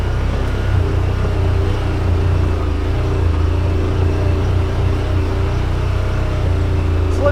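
A 2021 Yamaha Wolverine RMAX2 1000 Limited Edition side-by-side climbs a rocky trail after a creek crossing, its engine a close, steady low rumble with slight surges lasting about seven seconds.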